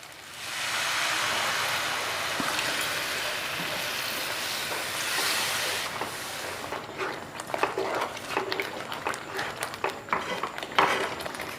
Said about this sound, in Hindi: तो से आम अधा कप पानी देबा